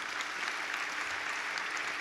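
Congregation clapping in a church service, a steady dense wash of applause from many hands throughout, moderately loud and with no talk over it.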